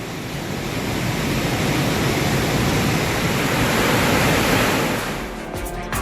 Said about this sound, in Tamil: கேரளத்தின் அதிரப்பள்ளி அருவியில் தண்ணீர் ஆர்ப்பரித்து கொட்டுகிறது